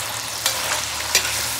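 Egg chicken hakka noodles stir-fried over a high gas flame, a constant sizzle broken by two sharp scrapes of a utensil against the pan, close and with nobody speaking.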